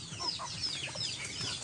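Chickens and chicks on a muscovy duck farm cluck and peep softly, with a continuous scatter of faint bird calls and no talking.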